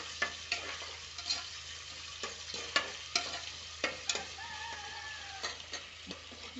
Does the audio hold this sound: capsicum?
yes